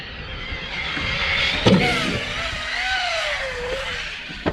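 A Tekno ET48 2.0 RC car's electric motor whines and sweeps up and down in pitch during a ramp bash, with a sharp thud of a landing midway and another at the end. Faint voices are heard.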